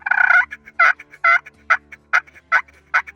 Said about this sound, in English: So if we wanna yelp with it,